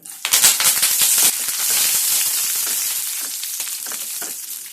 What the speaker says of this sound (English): First, I will add these curry leaves and fry them.